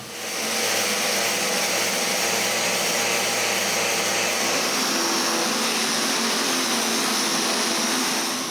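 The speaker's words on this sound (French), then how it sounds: "je peux finir le sablage du cadre" Power sanding of a walnut clock frame gives a loud, steady, close whirring hiss that holds unbroken throughout, with a lower hum dropping away midway and no speech.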